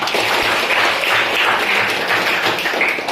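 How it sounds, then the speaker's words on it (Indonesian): Classroom students applauding together during a lesson, a dense and fairly loud wash of claps held evenly from start to finish with no talking. "Tepuk tangan untuk kita semua."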